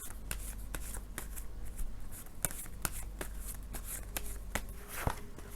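Tarot cards are shuffled by hand in a quick run of crisp riffles and taps, close and fairly quiet, repeating at an uneven rhythm for several seconds.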